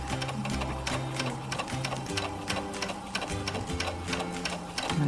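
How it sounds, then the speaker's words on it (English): A sewing machine runs continuously as it stitches a straight seam in fabric, its rapid mechanical clatter steady and close, with slight shifts in pace. "Now I'm going to sew."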